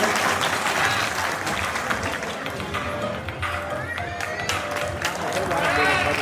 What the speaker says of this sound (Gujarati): તાળીઓને આપણે ગડગડાટથી વધાવતા જઈએ.